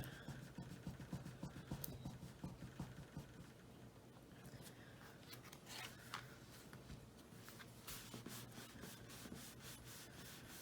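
Rubbing pressure applied along the fold of a paper double pop-up card, a soft, steady scratchy friction that continues close and fairly quiet throughout, with no talking.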